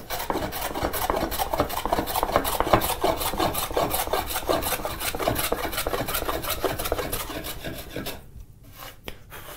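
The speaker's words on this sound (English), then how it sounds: "I'm trying to get rid of this rough mark with the scrub plane" Steady rhythmic rasping strokes of a scrub plane shaving a rough mark off lumber, fast and continuous for several seconds before trailing off into a couple of final scrapes.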